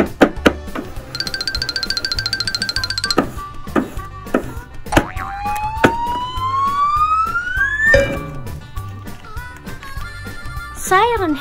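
A rising, wailing siren tone sweeps upward amid knocks, boings and other cartoonish effects in a Siren Head picture-guessing game, with a voice speaking over parts of it.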